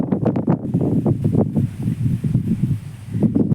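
Loud, gusty wind buffets the microphone in rumbling bursts in a kitchen garden, with rustling foliage underneath and no voices.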